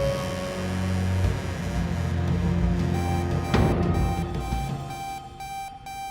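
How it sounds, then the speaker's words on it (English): A loud, steady electronic beep tone sounds continuously over a low background hum, holding its pitch with a brief sharp click partway through. "kind of like a beep noise."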